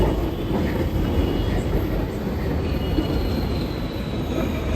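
A metro train rolls into a Mumbai station, a loud, continuous rumble of wheels on rails with a faint squeal running through it and no voices.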